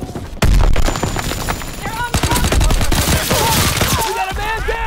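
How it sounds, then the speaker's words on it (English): Video game firefight with a loud grenade blast and rapid bursts of gunfire, dense and close, along with a short tonal sound effect and voices in the background. "Tossing grenade!"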